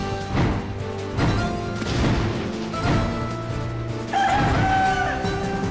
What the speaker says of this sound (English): A giant chicken Gryphon thing.